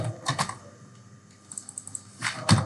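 Quick taps on a computer keyboard, a small cluster of soft clicks followed by a brief pause and then a few sharper keystrokes, close and quiet with no voice.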